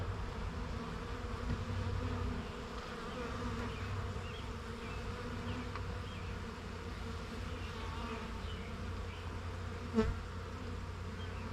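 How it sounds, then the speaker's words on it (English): A constant, dense buzzing of many bees fills the air, steady and close, with a brief faint knock near the end. "Box at the bottom had quite a few bees in it"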